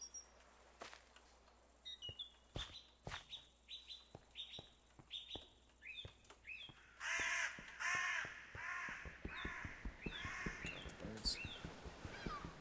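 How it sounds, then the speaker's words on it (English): Crows caw repeatedly over a steady background of chirping insects and other birds, the calls clustering and growing denser in the second half, moderately near and fairly loud. "The birds are so loud."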